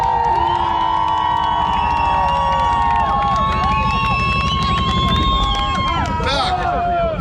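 Spectators at a motorcycle festival's loudest-exhaust contest cheer, shout and whoop in a loud, continuous burst of crowd noise, with a voice carrying over the din.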